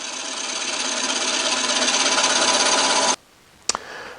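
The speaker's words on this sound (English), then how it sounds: "I'm going to drill a deeper hole that's 3/8 of an inch in diameter." A power drill with a 3/8-inch bit whines steadily for about three seconds as it bores into wood, then stops abruptly, followed by a short sharp clack and quiet rattling.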